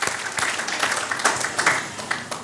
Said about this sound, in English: So if we can give a round of applause for all of our sponsors for this evening, making a tremendous night possible.